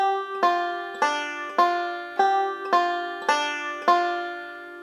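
Banjo picking the opening measure of the fiddle tune June Apple in melodic style, seven evenly spaced bright plucked notes ringing into each other, close and solo.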